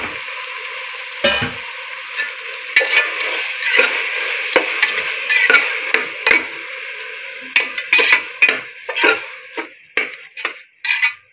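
Mint, onion and tomato sauté in a pan with a steady, close sizzle, broken by repeated sharp taps and scrapes of a spatula stirring; no voices.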